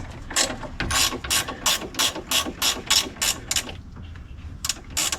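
A ratchet wrench turns the 13 mm mounting bolts holding a heavy-duty radiator in a Chevy SUV or truck. About a dozen quick, rhythmic pawl clicks come in bursts, loud and close, with a brief pause near the end.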